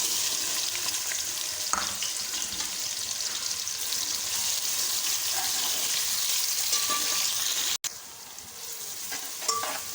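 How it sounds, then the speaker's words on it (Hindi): Steady sizzling of onions frying in hot oil, with occasional stirring clinks and scrapes; no talking. "तेल मेरा गरम हो चुका है, अब शामिल करूँगी प्याज।"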